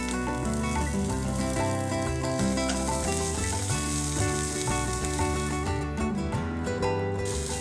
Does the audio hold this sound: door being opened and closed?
no